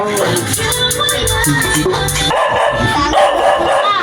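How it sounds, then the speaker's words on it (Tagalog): Dogs bark repeatedly in quick, loud bursts at a house in Calamba City, with a busy, noisy household in the background. "Lahat yata ng punta natin bahay, may aso."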